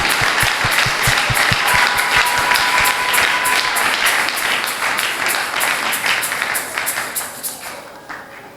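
A church congregation at a special worship service claps in a steady, loud rhythm with crowd acclaim, the rapid clapping continuing throughout before thinning out toward the end.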